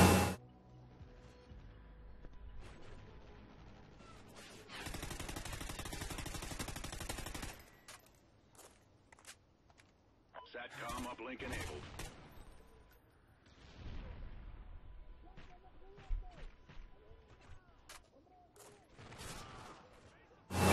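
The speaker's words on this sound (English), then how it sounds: "Is that like two shots? It's like doo-doo-doo." Gunfire in Call of Duty: Ghosts, a loud sustained automatic burst followed by scattered quieter shots and short volleys, with a person talking between them.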